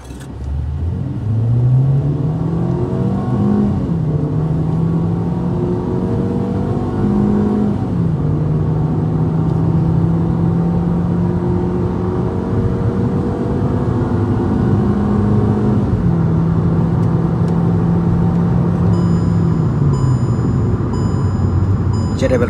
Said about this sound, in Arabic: أجرب لكم الآن تسارع السيارة من 0 إلى 100